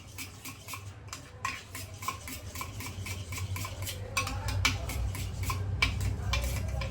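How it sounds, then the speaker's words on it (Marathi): Curd being whisked in a bowl for dahi bhaat, giving steady rapid scraping and clinking of a utensil against the bowl, close and continuous with no talk. "पण आधी हे छान दही फेटून घेते"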